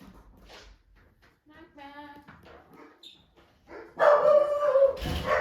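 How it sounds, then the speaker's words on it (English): Dogs bark loudly in a burst near the end, after quieter background voices and a faint tonal whine. "Sorry about my dogs."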